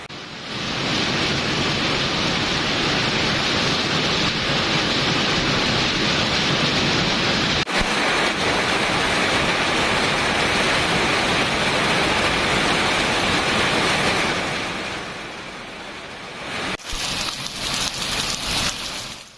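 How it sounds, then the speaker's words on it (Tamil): Sudden heavy summer rain over Gingee in Viluppuram district, Tamil Nadu, pours as a dense, loud, continuous hiss with no speech, with brief cuts in the steady downpour. "விழுப்புரம் மாவட்டம் செஞ்சி மற்றும் அதனை சுற்றியுள்ள பகுதிகளில் பெய்த திடீர் கனமழையால் பொதுமக்கள் மகிழ்ச்சி அடைந்துள்ளனர்."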